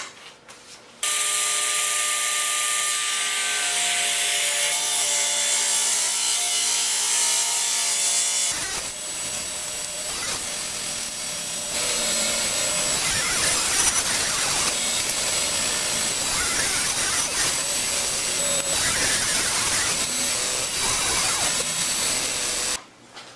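A table saw rips cherry, walnut and maple boards into strips: a loud, sustained whining cut through the wood, changing tone partway through, with the blade spinning down at the end.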